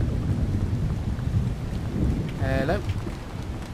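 A thunderstorm with heavy rain in the Lex Mortis video game: dense, steady downpour with a deep rumbling low end, and a man briefly calls out partway through.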